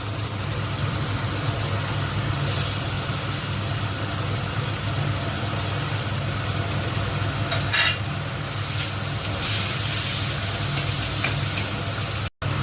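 Fish pieces frying in a pan with half-fried spices, salt and chilli powder: a loud, continuous close sizzle with a steady low hum, faint stirring scrapes now and then, cutting off briefly near the end.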